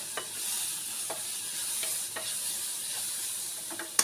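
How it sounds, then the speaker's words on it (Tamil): Onions sautéing with turmeric powder in a pan, a steady soft sizzle with intermittent scraping stirs every second or so, close and fairly quiet, no talking. "வெங்காயம் நல்லா வதங்கிட்டு கொஞ்சம் மஞ்சள் பொடி,"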